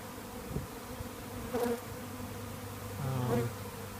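A soft, continuous buzzing of a honey bee swarm with its queen, in Forest Hill, Maryland, in May, with a few individual bees droning louder as they pass close by.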